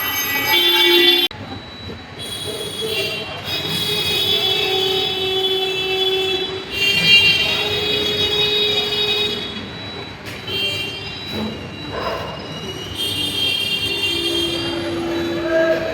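A train rolls through a railway station, with a steady rumble, sustained high metallic wheel squeals and brief horn-like tones over about sixteen seconds, fairly close and with no talk.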